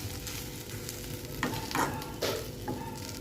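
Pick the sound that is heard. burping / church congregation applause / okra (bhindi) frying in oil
okra (bhindi) frying in oil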